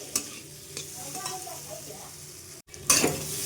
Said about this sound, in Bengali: চিংড়ি মাছ দিয়ে 2 থেকে 3 মিনিট আমি আরও ভালো করে কষিয়ে নেব চিংড়ি মাছের সাথে।